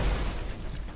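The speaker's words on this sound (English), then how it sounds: "I also feel like sprinting into him triggers the explosion more often." A loud, dense explosion blast in the video game Fallout 76, a booming burst that fills the whole second and stays heavy before easing slightly, with no voices.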